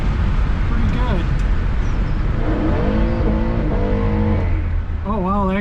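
A passing car accelerates hard with rising engine pitch, heard from inside an open-windowed convertible over steady road and wind noise.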